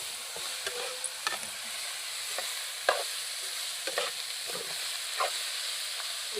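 Cabbage fries in a pan with a faint continuous sizzle, broken by irregular scraping and clinking strokes of a spoon stirring it, with no talking.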